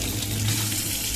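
Tap water streams from a faucet onto a hand held near the nozzle, a steady close broadband rush with a low gurgling undertone, no voices.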